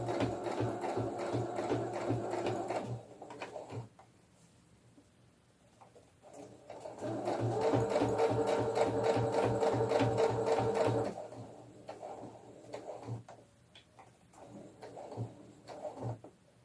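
A sewing machine stitches pajamas for a cloth doll, a rapid mechanical rattle close by that runs in two long bursts with a quieter pause between them and light handling clicks.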